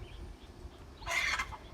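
A chicken gives a short, loud burst of agitated squawking near the microphone, rising suddenly out of quiet background noise and ending after about a third of a second.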